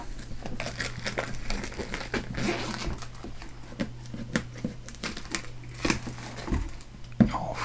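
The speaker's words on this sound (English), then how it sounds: "Off with the cellophane." Cellophane shrink wrap being pulled and torn off a Shadows of Brimstone board game box, giving close, continuous crinkling and crackling with scattered sharper tears and rustles throughout.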